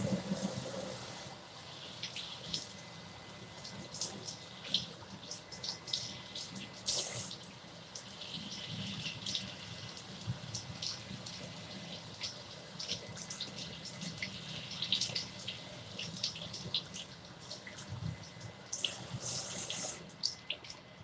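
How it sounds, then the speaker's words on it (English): Cold tap water runs steadily into a kitchen sink for washing food, a soft continuous hiss with occasional splashes and clatters, and a few quiet voices talking nearby. "And give it a wash under the water, some cold water."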